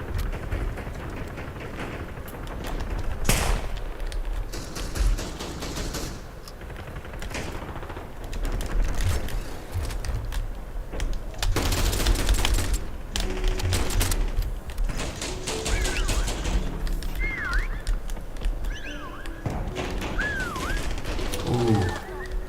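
Bursts of gunfire in a Call of Duty Black Ops 7 Zombies game session, repeated rapid shots and fusillades mixed with game effects, fairly loud over a busy background, with some speech.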